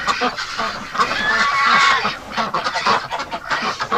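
Hungry wintering ducks and geese calling in extreme cold, a dense overlapping chorus of loud nearby honks and quacks that continues throughout.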